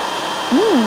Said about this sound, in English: Add the olive oil and blend into a thick puree.